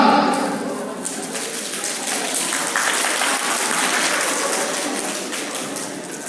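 Scout children at an Independence Day school programme perform rain clapping, their hands imitating rainfall as a dense, steady patter that swells and eases slightly, sustained and fairly close throughout.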